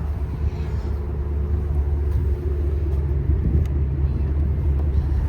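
A 2025 Chevy Suburban Premier with four chrome exhaust tips idles with a deep, steady engine rumble, heard close and continuous with a low throbbing drone throughout.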